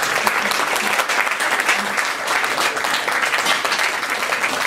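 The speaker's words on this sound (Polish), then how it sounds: "Tutaj duże brawa stojące za kamerą." Big applause from an audience at an authors' poetry evening, dense steady clapping filling the room throughout, loud and close.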